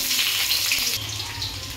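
Chopped onion with nigella seeds frying in hot oil in a kadai gives a loud, dense, close sizzle that eases slightly partway through, with no voices.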